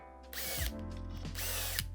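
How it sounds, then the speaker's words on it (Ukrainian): A power drill bores shallow 4–5 mm recesses through a Blum drawer-front fitting template set into the corner between front and side panel, two close, steady whirring bursts with no talk. "Свердлимо невеличкі заглиблення 4-5 мм через два передні отвори шаблону"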